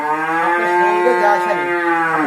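A loud, drawn-out moo sounds close by from cattle on a dairy farm keeping ACI-bred and Fleckvieh heifers, a single sustained call with no talking over it.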